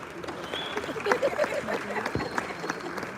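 Audience applause at the Africa Real Estate Innovation Summit, a steady, dense patter of many hands clapping with faint voices mixed in, moderately loud and sustained throughout.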